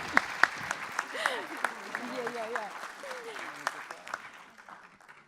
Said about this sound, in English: Okay, you can clap. Go ahead